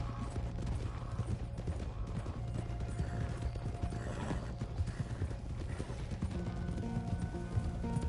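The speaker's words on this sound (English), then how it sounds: "Will you stop messing around with that horse?" Horse hooves clip-clopping in the Red Dead Redemption 2 video game, a brisk, steady trot of hoofbeats with a possible whinny amid faint mechanical clatter.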